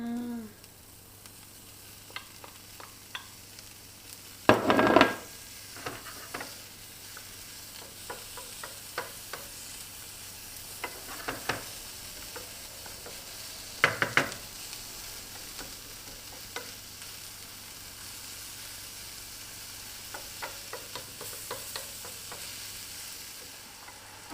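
Mushrooms and turmeric frying in a pan, a faint continuous sizzle broken by scattered scrapes and clinks of stirring, with a few louder knocks from a utensil against the pan, close up with no talking.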